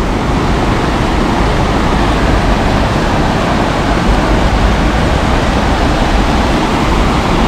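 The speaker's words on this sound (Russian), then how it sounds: "Прикольно шумит река Сочи." Loud, steady rushing of the Sochi River, a dense continuous roar with no pauses or voices.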